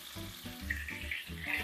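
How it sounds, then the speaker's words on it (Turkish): Bulgur toasting in melted butter in a pot gives a soft, steady sizzle with rhythmic stirring scrapes, heard faintly and alone. "Öncelikle burada bulgurumuzun 1-2 dakika şöyle kavuracağım"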